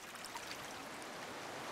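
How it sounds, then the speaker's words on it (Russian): Meltwater streams run through snowfields in Greenland in early summer, a faint, steady rushing and trickling of water heard on its own. "талая вода быстро образует ревущие потоки, разрезающие снеговые поля"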